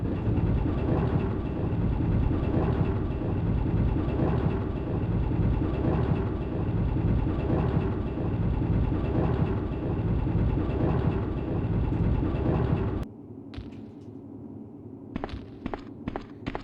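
A monorail cart in the video game Resident Evil Survivor rolls along with a steady low rumble and rhythmic rail clatter for about thirteen seconds, then cuts off, leaving a quieter hum broken by a few sharp clicks.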